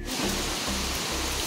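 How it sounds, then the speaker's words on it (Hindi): Heavy rain driven by gusting wind, a dense steady roar of water pouring down close by, continuous and loud without pause. "बहुत तेज बारिश है, बहुत तेज, धुएं जैसा आ रहा है"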